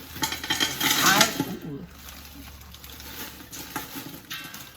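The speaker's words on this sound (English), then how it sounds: "I'm gonna throw in some onions, however many onions you want." Chopped onions tossed into a pot of hot avocado oil set off a loud clattering, sizzling burst lasting about a second, which then fades to a quieter crackle.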